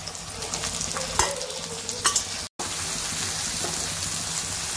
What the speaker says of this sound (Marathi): आता ही वांगी सगळी मी अशी परतून घेतलेली आहेत तेलामध्ये।